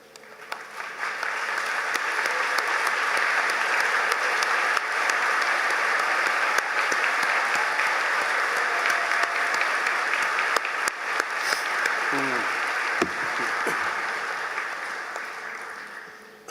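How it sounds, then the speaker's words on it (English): A commencement audience applauds faculty and staff, a broad, sustained round of clapping from a large crowd in a hall that holds steady for about fifteen seconds before tapering off, with no voices over it. "I invite your faculty and staff now to rise and remain standing as we all express our"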